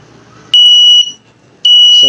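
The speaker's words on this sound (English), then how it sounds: "So you can see mask is not detected, so that buzzer start ringing." A loud, piercing electronic buzzer on a Raspberry Pi face mask detector sounds twice in sharp bursts, with brief quiet and faint background noise between them.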